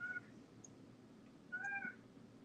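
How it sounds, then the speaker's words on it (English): A house cat meows twice, faint and distant, as two short calls separated by about a second and a half over a low background hum. "I don't know where the cat has been this entire time."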